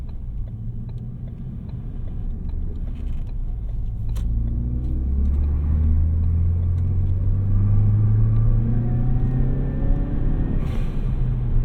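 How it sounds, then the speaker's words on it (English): A 2018 Ford Focus ST with stock catback exhaust revs hard at full throttle in third gear, its pitch climbing steadily as it accelerates under full load, loud and close with a rumbling exhaust. "That was full throttle in third gear."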